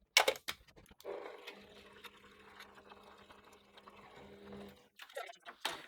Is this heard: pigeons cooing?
no